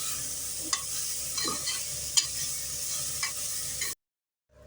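Bitter gourd with onion and tomato sautéing in a pot, giving a soft continuous sizzle with a few scraping stirs of a spoon, then cutting off abruptly into silence.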